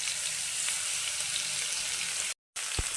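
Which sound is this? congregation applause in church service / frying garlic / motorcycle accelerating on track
frying garlic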